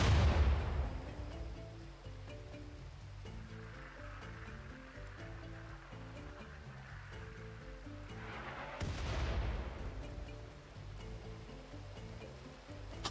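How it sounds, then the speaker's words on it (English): Mortar and artillery fire in a jungle combat video game lands as two heavy, rumbling booms several seconds apart, each decaying slowly beneath a steady musical backdrop. "Surely they've got to be out of mortar shells soon."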